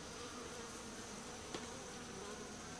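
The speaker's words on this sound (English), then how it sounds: "You can actually see a bee hatching." Bees from a swarm buzz continuously around a honeycomb where a young bee is hatching. The drone is dense and steady, with one brief close tap partway through.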